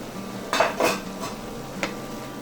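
Vegetables with onions and garlic stirred in a pan over low heat, a steady soft sizzle broken by a few distinct scraping and clinking spatula strokes, close up with no voices.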